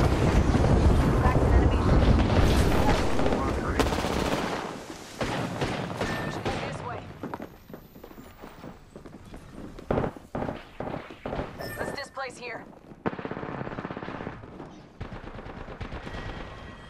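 Machine gun fire in a battle royale video game, loud rapid bursts dominating the first few seconds, then scattered shots and game sounds at lower level.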